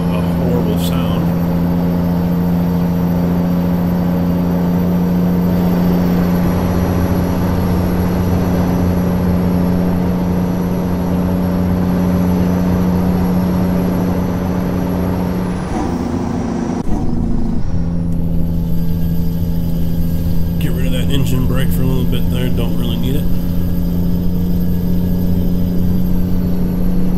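A heavy Cummins truck engine in American Truck Simulator drones steadily and loudly, shifting tone partway through with a brief hiss like an air brake, then continuing to run.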